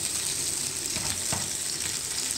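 Vegetables for a traditional vegetable pulao sauté in a pan with a steady, close sizzle and a couple of soft stirring scrapes, no talk.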